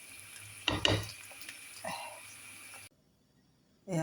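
Tagliatelle with meat and vegetables is stirred in a frying pan, giving a brief cluster of utensil scrapes and clinks over a soft sizzle, then the kitchen goes quiet before another burst at the end.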